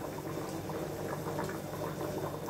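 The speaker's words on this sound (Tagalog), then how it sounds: "Kumukulo ka agad, diba?" Water boils vigorously in a cooking pot, a close, steady burble of popping bubbles that continues without pause.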